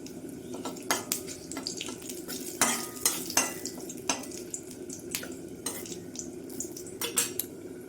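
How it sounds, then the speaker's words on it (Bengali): A bay leaf and whole cumin seeds fry in oil in a pan for a home-style Bengali vegetable dal, with a soft sizzle under repeated close clinks and scrapes of a metal utensil and no speech. "ভেজে নেবো আমি তেজপাতাটা জিরেটা"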